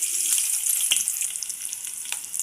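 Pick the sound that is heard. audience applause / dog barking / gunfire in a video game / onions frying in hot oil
onions frying in hot oil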